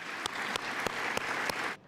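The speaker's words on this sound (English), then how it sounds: "I'd like to give a round of applause for our bus drivers." Applause from an audience at a TransLink business event in Vancouver, a steady hiss of many hands clapping with a few sharp louder claps standing out near the microphone, ending abruptly.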